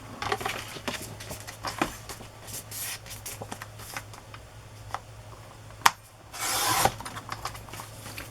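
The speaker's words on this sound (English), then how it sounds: "Let's trim it before I sew things to it. These two inner pages I wanted to trim a little bit." Journal pages trimmed by hand, soft close paper rustling and small snips throughout, with a sharp click and a louder crisp paper sweep near the end over a low steady hum.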